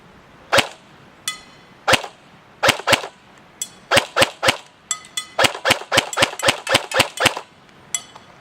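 An airsoft XM8 LPEG rifle fires at a target 125 feet out: sharp, close cracks, first spaced single shots and then quicker bursts, with no other sound between them.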